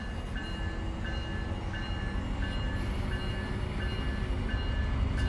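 In the Run 8 train simulator game, a BNSF train rolls past as a steady, loud rail rumble with repeating tonal horn-like notes above it.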